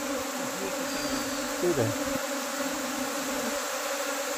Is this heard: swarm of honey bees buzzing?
yes